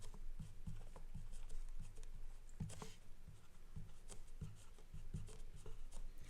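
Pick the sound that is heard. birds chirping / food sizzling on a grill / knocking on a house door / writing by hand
writing by hand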